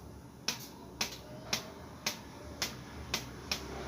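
Manjha kite string, Vardhman 1-2-3 grade, plucked up close: seven sharp, bright twangs fall at a steady half-second rhythm, each ringing briefly before the next, with no talking.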